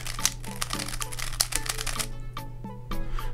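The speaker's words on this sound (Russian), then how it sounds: "Да, немножко щелкает. Такой не самый тихий кубик." A YuXin Little Magic 3x3 puzzle cube clicks and rattles as its layers are turned, in quick bursts of close, sharp snaps separated by short pauses.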